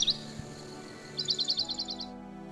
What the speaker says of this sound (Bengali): তার কান্নার শব্দে আশপাশের পাখিরা উড়ে এলো